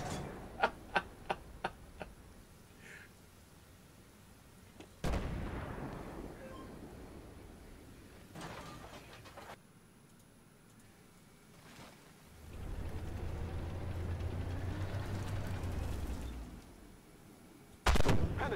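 A 2S1 Gvozdika self-propelled howitzer fires in the tank game Armored Warfare, with a series of sharp clicks, heavy booming shots and a long rumbling engine passage, all against quiet game ambience.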